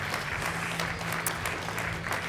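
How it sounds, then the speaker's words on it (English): Audience at a business conference session applauds steadily throughout, a dense, even wash of clapping with a low hum underneath and no voices on top. "Yeah, round of applause."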